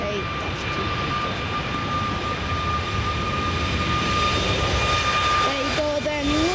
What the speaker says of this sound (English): This aircraft is 3 years old, Boeing 737 MAX 8-200.